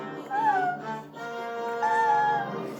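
A voice mimics a cat's meow, with drawn-out wavering cries that rise and fall over about three seconds, close to the microphone.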